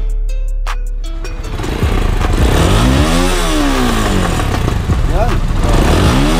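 A Rusi Sigma 250 motorcycle with a Henyoworks exhaust revs up and down repeatedly, its engine rising and falling in loud sweeping surges, with someone briefly speaking at the start.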